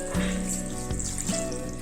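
Water is poured into a cooking pot sitting on a gas stove, making a steady, close-up splashing and pouring sound with faint kitchen clatter, no talking.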